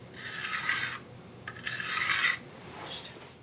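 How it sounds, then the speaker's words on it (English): Slick Trick broadhead being sharpened on a Stay Sharp 344 sharpener: three close, raspy filing strokes separated by short pauses, quiet and without talk. "I just finished sharpening one of these heads with the Stay Sharp 344."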